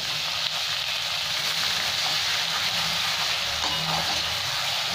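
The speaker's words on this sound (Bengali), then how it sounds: "লাল লাল করে পেঁয়াজগুলো একটু ভেজে নেব।" Chopped onions sizzling in hot oil with whole cumin for a Bengali-style chicken curry, a steady close frying hiss with light stirring.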